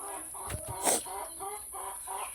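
Clucking from a chicken, a run of short, soft, repeated calls at a steady pace, heard up close, with a brief louder rustle partway through.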